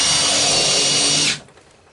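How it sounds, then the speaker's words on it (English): Power drill with a 1/2 inch bit boring through a clamped wooden porch swing, loud steady whine for about a second and a quarter before cutting off abruptly, leaving quiet room tone. "1/2" bit and just drill it through."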